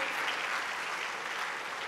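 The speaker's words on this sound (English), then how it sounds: "Let's hear a round of applause for UPSA" A crowd at a Christian youth hangout event claps steadily in a round of applause for a university group, a moderately loud, even wash of many hands.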